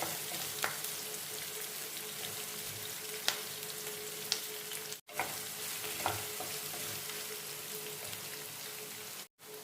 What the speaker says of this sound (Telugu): పెద్దుల్లిపాయతో పాటు కరివేపాకు కూడా వేసేసుకుందాం. ఇది కొంచెం వేగనిద్దాం.